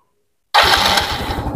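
Yamaha Mio motorcycle engine starts after a moment of silence, a sudden close burst that settles into a rough, steady idle.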